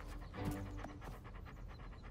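An animated dog pants steadily and rapidly at close range, alone, with a soft rhythmic breathy pulse.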